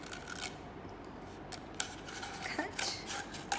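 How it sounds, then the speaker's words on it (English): Scissors snip and rasp through paper end bits while trimming pieces for a classroom art project, a series of soft, close, irregular cuts over a quiet room. "you're going to take your scissors,"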